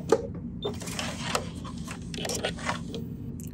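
A sewing machine stitches with a patchwork quarter-inch foot, giving a soft mechanical whirring with small clicks and fabric rustles, heard close up for a few seconds.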